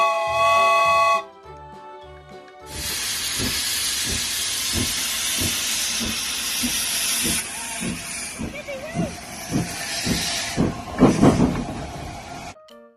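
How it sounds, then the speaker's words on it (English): A toy train gives a short tonal steam whistle, then a long loud hiss of simulated steam with rhythmic chugging pulses beneath, while a person talks briefly. "Train."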